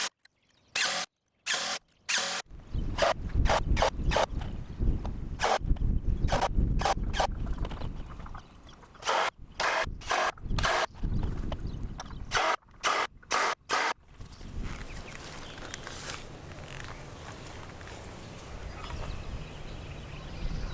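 Screws 2.5 inches long driven through a Simpson hurricane bracket into a wooden beam of a ground-mount solar rack. A powered driver fires in many short, loud, choppy bursts with brief gaps, followed by a steadier rough whir near the end.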